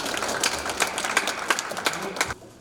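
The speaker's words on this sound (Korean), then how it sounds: "큰 박수로 모시겠습니다." Scattered, moderately loud applause from the audience at a library's 20th anniversary ceremony, then an abrupt stop near the end.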